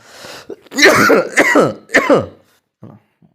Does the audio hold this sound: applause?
no